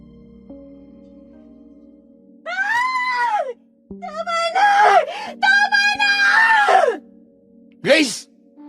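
A woman in a horror drama screams and wails in several long, pitched bursts over a low steady background hum, with a gap of quiet between cries and a final short shriek.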